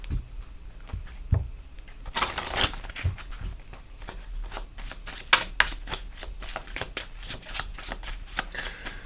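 Tarot message cards are shuffled by hand in a quiet room, giving a dense flurry of papery riffles and slaps partway through, then steady card taps and flicks continuing close and clear with no talking.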